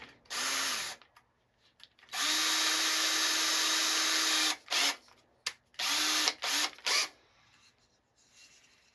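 A power drill with a 3/16-inch bit whirs in several bursts while drilling a screw hole in wood, one long steady run and a few short stop-start pulses, close by with quiet gaps between.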